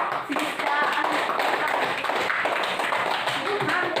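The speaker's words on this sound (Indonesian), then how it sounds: "Tepuk tangan buat Saskia." Classroom pupils clap for a student, with a burst of quick, close hand claps from a small group blending with children's voices that carry on throughout.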